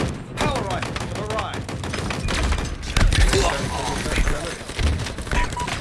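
Grenade blast in Halo Infinite multiplayer, a loud burst near the three-second mark amid dense, continuous gunfire and thuds, with voices talking underneath.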